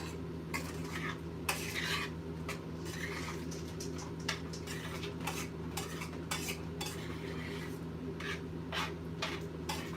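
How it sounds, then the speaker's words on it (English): Peach jam with sugar and pectin gets stirred in a pot, a spoon scraping and clinking against the metal in irregular strokes over a steady low hum, with no talking. "mix sugar, pectin, pot, stir well, bring to boil."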